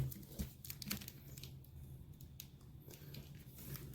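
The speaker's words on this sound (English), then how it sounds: "I am using my Cutco scissors." A few sharp snips and crinkles of Cutco scissors cutting through plastic packaging on a leatherbound book, close up, with quiet rustling in between.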